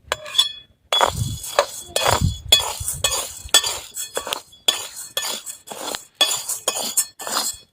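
Sago (sabudana) being roasted dry in a hot kadhai, heard as bursts of clinking and scraping of the pearls against the metal pan, coming in quick irregular strokes with short gaps between them.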